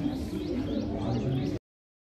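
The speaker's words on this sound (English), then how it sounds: "So many birds flying around." Birds chirp and call repeatedly at Umaid Bhawan Palace in Jodhpur, rising tweets heard amid a dense, steady outdoor background before the sound cuts off abruptly.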